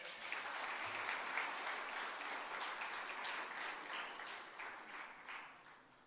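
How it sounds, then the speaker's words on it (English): Steady audience applause fills a workshop hall at a hybrid capacity-building event, a dense even patter of many hands lasting several seconds and tapering slightly toward the end. "Another round of applause for her."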